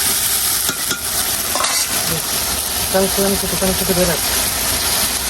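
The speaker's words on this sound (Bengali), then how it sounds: "আগে মশলাটা ভুনা করে আমি মাংসটা দিয়ে দেবো" Onions and spices fry and sizzle in a pan as meat is about to be added, a loud, steady crackling hiss with stirring scrapes, while a voice talks over it.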